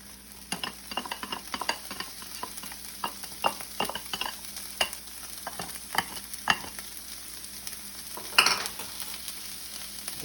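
Onions frying in a pot over medium-high heat, with garlic and jalapeno nearby: a steady close sizzle broken by repeated scraping and stirring clicks, with a sharper clatter near the end.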